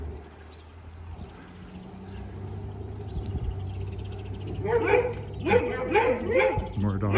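Several dogs barking along a residential street during a walk in Regina, rising from faint distant yips to a burst of loud, rapid barking nearby toward the end.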